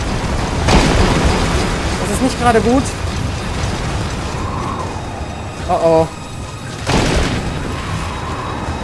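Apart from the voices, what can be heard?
explosions in video game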